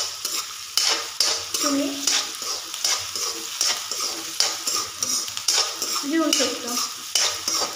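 Onion sautés in a pan for mung dal tadka, sizzling steadily while a spoon scrapes and stirs in repeated strokes, with brief speech in Marathi over the cooking.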